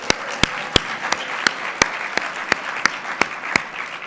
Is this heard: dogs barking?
no